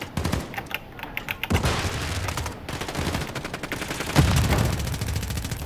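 Rapid bursts of gunfire in the video game Modern Warfare 3 crackle in quick clusters, some close and sharp, others trailing off, with a heavier stretch of shooting near the end.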